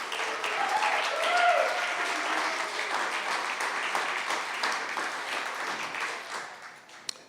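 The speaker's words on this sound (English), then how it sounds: "So I want to give them a round of applause before we even get started." An audience applauds storytellers at an evening storytelling event, a steady, moderately loud wash of clapping that holds evenly and then tapers off at the end.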